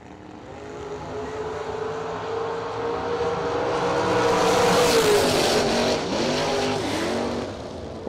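Drag racing cars, a 67 Camaro and a Chevy 2, launch and accelerate down the strip with loud overlapping engine roars rising in pitch through gear changes, swelling then fading as they pass.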